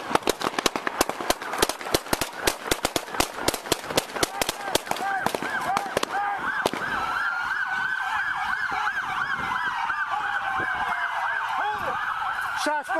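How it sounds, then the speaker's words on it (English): Rapid volleys of gunshots crack out during a police traffic stop, dozens of sharp reports in quick succession before sirens take over and wail continuously, with voices shouting amid the noise. "Shots fired, Rio. Shots fired."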